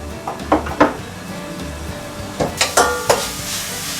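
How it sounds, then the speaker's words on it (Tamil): Onions frying in a pan for hotel-style vadacurry, a soft background sizzle broken by several sharp spatula scrapes and knocks against the pan, close and without talk. "வெங்காயம் நல்லா வறுப்பட்டுருச்சு."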